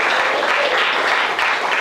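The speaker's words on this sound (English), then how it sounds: "Let's give our Keene Democrats a round of applause." An audience at a BBQ fundraiser claps loudly and continuously, dense applause filling the whole moment without a break.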